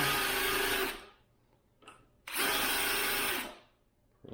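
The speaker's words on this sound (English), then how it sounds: "we'll use the self-centering drill bit that comes with the kit to drill the pilot hole for the screws here" A power drill fitted with a self-centering bit bores a pilot hole in a door, whirring loudly in two bursts of about a second each with a short pause between, then starting up again at the end.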